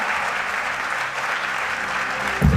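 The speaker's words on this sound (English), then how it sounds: "Let's give him a hand of applause" An audience at a theatre awards ceremony gives steady, sustained applause, a dense wash of clapping throughout, with a brief louder thump at the very end.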